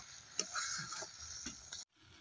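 A spoon stirs garam masala through a simmering radish curry (mulo ghonto) in a pan, faint close scraping and soft sizzling with a few light clicks, with no voices.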